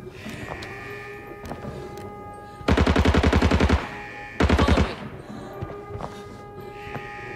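Two bursts of rapid automatic gunfire in the Arena Breakout shooter ring out loud and close, a longer stream of about a second followed by a shorter one, with quiet in-game ambience and faint footsteps between them.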